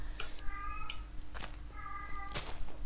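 A male house cat meows twice from close by, each call a clear drawn-out tone separated by a short pause, with faint scuffling in between.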